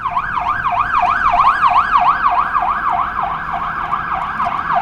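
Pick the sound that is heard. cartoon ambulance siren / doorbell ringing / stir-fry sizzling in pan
cartoon ambulance siren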